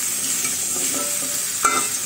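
Bottle gourd with turmeric and salt stir-fried in a pan, a continuous close sizzle with light scraping strokes and one sharper clank of the spatula near the end.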